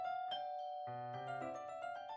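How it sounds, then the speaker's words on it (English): A two-tone doorbell chime rings in the Doki Doki Fallen Angel video game, with a higher bell note followed by a lower sustained tone, ringing out clearly and alone with no talk. "I press against the doorbell."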